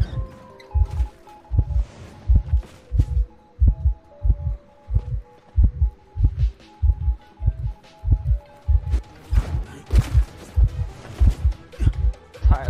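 In the Identity V mobile game, the heartbeat warning thumps in a steady, regular double-beat pulse, loud and close, beneath soft background music tones.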